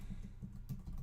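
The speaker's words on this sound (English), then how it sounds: "type in your domain name, .agentinsidersclub.com, and press enter" Quiet, rapid tapping of keys on a computer keyboard as a domain name is typed, an uneven run of soft clicks for about a second, close-miked with no talk.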